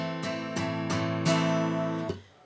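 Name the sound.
guitar strummed open without palm muting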